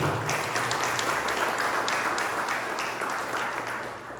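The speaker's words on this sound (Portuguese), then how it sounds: "E as palmas louvam o Senhor" A church congregation claps together in praise, a dense and steady wash of hands that holds for several seconds before easing slightly at the end.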